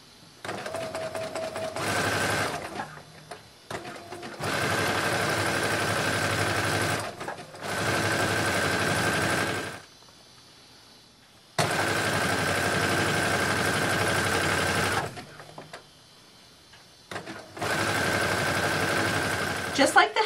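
A sewing machine stitching seams on an empire waist swim dress runs in several long, steady bursts of fast mechanical whirring, separated by short pauses.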